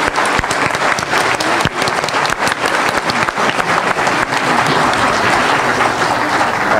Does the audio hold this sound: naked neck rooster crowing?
no